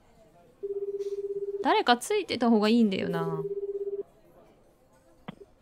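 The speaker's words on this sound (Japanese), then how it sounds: "電話は数回の呼び出し音の後につながった" A phone call in the game 428 Shibuya: quick keypad dialing beeps give way to a steady pulsing ring tone, while a person talks over it partway through.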